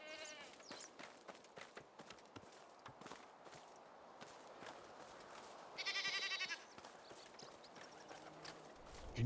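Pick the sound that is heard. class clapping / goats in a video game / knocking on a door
goats in a video game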